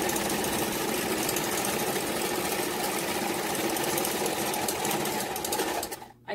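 A sewing machine stitches a small faux-leather wristlet bag with white thread, a fast, steady mechanical whir and needle chatter running continuously at close range before stopping abruptly near the end.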